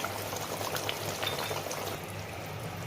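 Raw mustard oil poured from above over a simmering hilsa and eggplant mustard curry, a soft steady bubbling and trickling close by with no talk.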